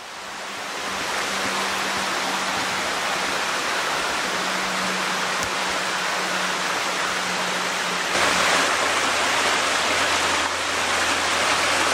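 Creek water flowing at Gold Mine Run makes a steady, loud, close rushing that is unbroken for the whole stretch. No voices are heard.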